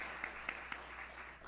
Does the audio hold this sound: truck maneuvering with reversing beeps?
no